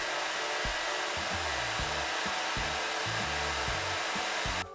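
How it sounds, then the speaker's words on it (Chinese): A Panasonic hair dryer runs at maximum speed, giving a loud, steady, close rush of blowing air with a faint low hum pulsing underneath. The air cuts off abruptly at the very end. "那先登场的是 Panasonic 98这一支"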